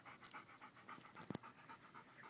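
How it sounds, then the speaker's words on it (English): A dog pants rapidly behind the microphone on a walk, quick rhythmic breaths that are faint and close with one sharper snort partway through. "you can hear my loud doggy behind me sweating"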